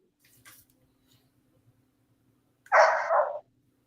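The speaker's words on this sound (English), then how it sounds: "It sounds like a big dog." A big dog barks once, a single loud, fairly close woof after a near-silent stretch with faint background noise.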